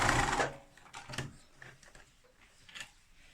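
A sewing machine set to zigzag runs a short burst of stitches on a tote bag strap, loud at the start and then fading into a few softer, rattling mechanical taps.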